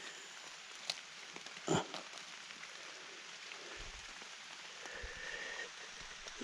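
Steady moderate rain falls through a forest during a mushroom-hunting walk, a soft continuous patter on leaves with a few louder nearby drops, heard alone without voices.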